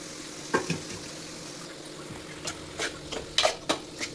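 Cabbage sautéing in a pan gives a steady low sizzle, broken by a few brief scraping stirs and clinks of a spatula, with no talking.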